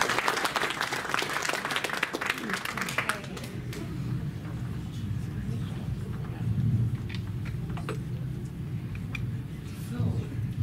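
An audience at a hypnosis and NLP congress applauds a young woman: loud, dense clapping for about three seconds that then thins into scattered claps and quiet room murmur.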